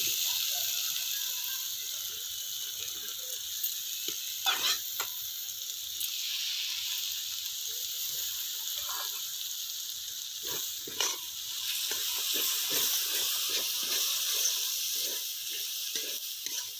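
Spices frying in hot oil for a cauliflower roast, a soft steady sizzle with occasional sharper crackles and clinks of a utensil.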